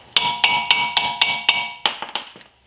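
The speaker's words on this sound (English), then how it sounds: "use my 18 as a hammer" An 18 mm wrench used as a hammer strikes metal on a Chevy Tahoe brake job, about nine sharp ringing clanks in a steady rhythm, close and loud, the last few quicker and uneven.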